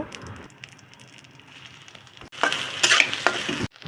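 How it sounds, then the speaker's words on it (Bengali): Chopped garlic and onion fry in hot mustard oil with a soft sizzle that turns into a louder burst of crackling and stirring near the end, then cuts off. "সরষের তেল গরম হয়ে গেলে বেশি করে রসুন কুচি আর পেঁয়াজ কুচি দিয়ে লাল করে ভেজে নিব"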